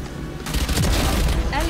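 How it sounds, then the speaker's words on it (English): A swarm grenade detonates in Valorant, a cluster of booming bursts rolling together over a second or so amid game noise, with a voice speaking over it. "Swarm grenade out."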